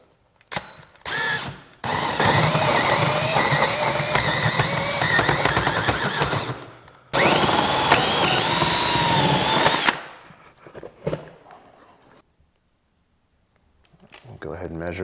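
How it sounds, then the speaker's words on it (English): A power drill bores through building sheeting toward the outside of a wall about five inches thick with siding, during a ductless mini split install. It runs loud and sustained in two long bursts with a brief stop between. "we're going to go ahead and drill on through the sheeting to the outside of the building"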